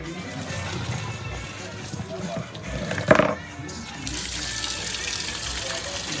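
Soaking water poured off saltfish in a kitchen: a continuous low splashing and running-water wash with one brief louder gush near the middle, and a voice speaking over it.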